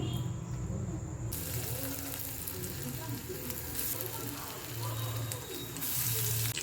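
Chicken keema balls fry steadily in hot oil, a continuous close sizzle and crackle with a few soft stirring clinks, no speech.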